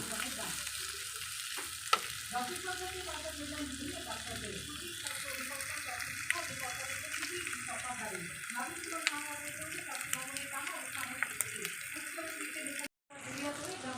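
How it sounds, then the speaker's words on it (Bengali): Paneer frying in a pan with turmeric and salt, a steady sizzle with stirring scrapes and some water sounds, fairly close, with a short break near the end. "এখন ভাজি পনিরটাকে পনিরটা আজকে হলুদ আর লবণ দিয়ে ভালো করে একদম ভেজে নেব"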